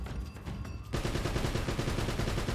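Heavy gunfire from a big weapon in the game Uncharted, a dense sustained barrage that grows louder and continuous after a brief lighter stretch, close and loud.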